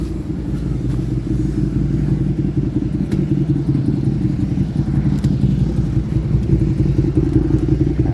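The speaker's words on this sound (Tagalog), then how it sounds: "Ang motor." A motorcycle engine rumbles steadily and loudly nearby, a low continuous drone with occasional clattering, no voices.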